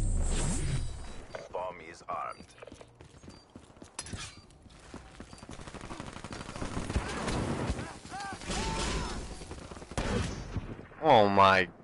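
Rapid gunfire in a video game crackles throughout amid hoofbeat-like clatter, with voices talking over it and a whooping vocal burst near the end.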